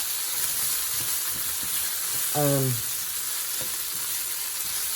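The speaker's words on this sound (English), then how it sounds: "It doesn't take long to cook that tomato paste either." Tomato paste and vegetables frying in a large pot over a big burner, a constant loud sizzle with a brief voice breaking in partway through.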